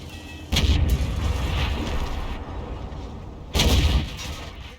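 Two heavy tank cannon shots in the World of Tanks video game, each a sharp booming blast followed by a rolling rumble that fades before the next round fires about three seconds later.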